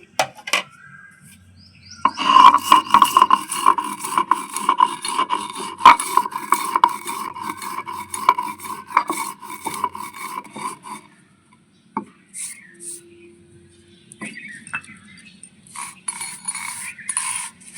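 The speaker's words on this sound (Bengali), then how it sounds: "ভেজে রাখা জিরেগুলো আমি গুঁড়ো করে নিচ্ছি" Roasted cumin seeds ground by hand in a kitchen while preparing a raw-mango sherbet: a steady, close scraping and rasping with light clinks of a pot or utensil, pausing briefly near the end before resuming.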